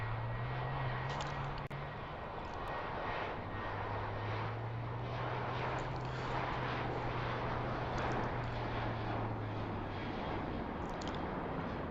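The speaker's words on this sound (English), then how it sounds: "it's the KLM flight number KL1008 heading to Amsterdam. It's a Boeing 737" A KLM Boeing 737-800 airliner at Heathrow, a faint, distant steady jet roar with a low drone that dips and resumes, heard alone without talk.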